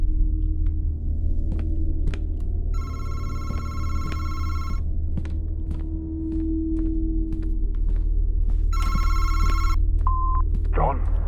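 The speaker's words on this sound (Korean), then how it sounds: "아니, 전화?" In the horror game Madison, a telephone rings twice in bright, buzzing bursts separated by a pause, over a constant low hum and rumble.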